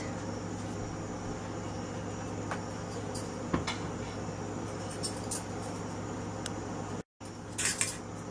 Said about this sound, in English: So let me go ahead and mix it